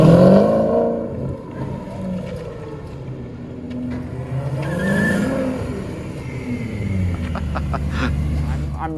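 A Maserati in rough condition, fresh off a trailer, drives a small circle around a parking lot, its engine revving and rising and falling in pitch as it accelerates and passes close by.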